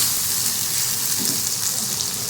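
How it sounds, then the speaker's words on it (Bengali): A steady, close sizzle of onions frying in hot oil, a continuous crackling hiss with no pauses or voices. "পেঁয়াজটা একটু ভাজা ভাজা হোক"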